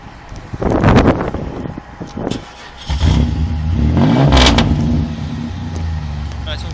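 A Pontiac Firebird engine revs loudly nearby in repeated rising bursts and then holds a sustained roar. Wind buffets the microphone, and people talk over parts of it.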